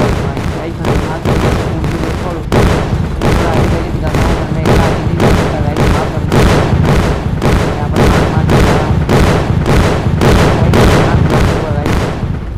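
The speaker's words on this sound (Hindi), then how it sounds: "ये हमने इसको एक्टिवेट कर दिया है गाइस, अब ट्रेन चलेगी, अब देखना आप धमाका" Explosions in the mobile game Indian Bike 3D as a train is set off: a rapid, loud, evenly spaced barrage of booming blasts, roughly two per second, continuing throughout.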